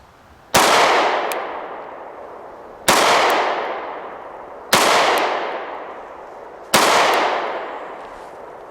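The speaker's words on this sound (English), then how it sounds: "We're just shooting some 115 grain ammo" HK P30SK 9mm pistol fired in single action with 115 grain ammunition: four loud, sharp shots a couple of seconds apart, each ringing out with a long echoing decay, no voices.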